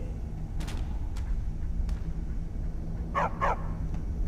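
A dog companion in Skyrim barks a few scattered times over a low steady game ambience, with a closer double bark near the end, moderately loud.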